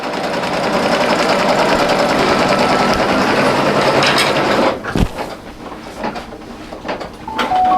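A single-needle embroidery machine stitches a round appliqué on an in-the-hoop mug rug, a steady loud mechanical whir for several seconds that stops, leaving quieter clicks and handling noises.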